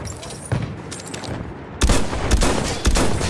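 Enemy machine gun fire in a video game: several bursts of rapid gunfire, one early and a louder cluster in the latter half, sharp and fairly close over ambient battle noise.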